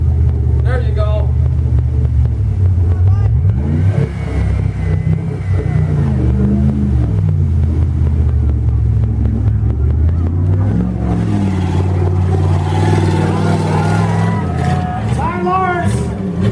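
A Jeep Cherokee engine revs and rumbles steadily as it churns through mud off-road, loud and continuous throughout, with people shouting encouragement over it.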